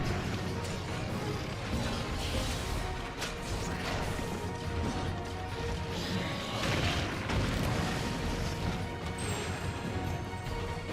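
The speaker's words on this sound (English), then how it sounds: "at least the reactive explosions don't seem to hurt as bad as they did in 4U" Reactive explosions from the video game Monster Hunter Generations Ultimate, a dense run of loud crashing, booming blasts layered over constant game noise and music, with no clear gaps across the stretch.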